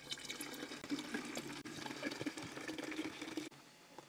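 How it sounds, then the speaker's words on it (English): Water poured into a glass of grape sangria-style fruit water, a steady trickling pour running for about three and a half seconds before cutting off, close and moderately quiet. "Top that off with some more water."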